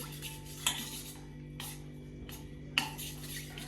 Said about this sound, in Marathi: असं हलवून घ्यायचं जेणेकरून त्याच्या गुठळ्या झाल्या नाही पाहिजे